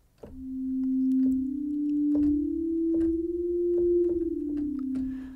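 A synthesizer note played with an ADSR volume envelope: a steady, pure sine-like tone swells in, holds at a sustained level for several seconds with faint rhythmic clicks underneath, then releases and fades at the end.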